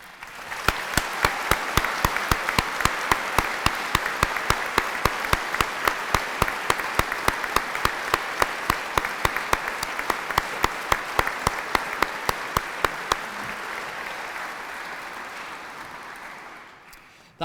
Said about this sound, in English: these officers now need a final round of applause